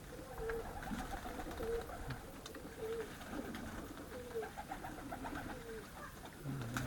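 Racing pigeons coo softly at the loft during a 100 km young-bird race, repeated low throaty calls coming every second or so over a steady background hiss, fairly faint and distant.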